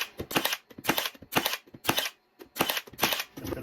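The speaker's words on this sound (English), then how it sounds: "Get rid of that cedar and shoot it in that piece of white oak you got right there." Milwaukee M12 18 gauge brad nailer firing into white oak, a rapid series of sharp snapping shots in clusters of two or three, loud and close, with short pauses between bursts.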